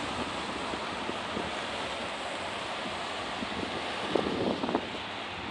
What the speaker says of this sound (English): the wind and everything makes it really hard to hold everything steady.